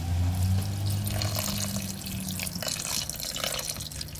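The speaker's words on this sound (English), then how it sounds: "I'm going to wash the rice." Tap water runs steadily into a pan while rice is being washed, a close, continuous splashing rush with some sloshing as the flow shifts.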